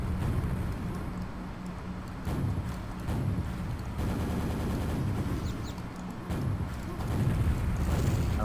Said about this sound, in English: That was a missed shot by me